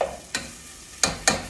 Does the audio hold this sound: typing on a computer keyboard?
no